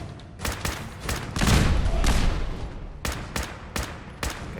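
Converted carbine firing in Fallout 4, with sharp single and double shots in an uneven rhythm and a louder, heavier blast in the middle.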